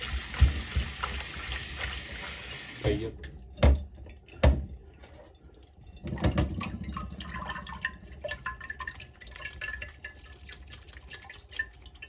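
Water pours steadily over squid being washed for curry, then breaks into scattered splashes, drips and knocks as the flow stops.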